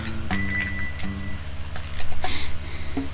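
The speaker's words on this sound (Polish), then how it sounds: "Włącz dzwonek." An order bell rings in the restaurant video game Papa's Freezeria HD, a bright ring that comes early and then lingers over a faint rhythmic background.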